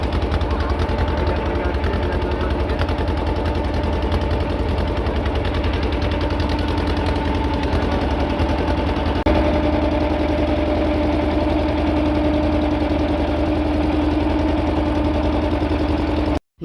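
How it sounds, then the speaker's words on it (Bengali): A motor boat's engine in a Sundarbans village runs steadily and loudly close by, with a rapid chugging drone throughout and no pause. "স্টার্ট হয়ে গেছে আমাদের নৌকা"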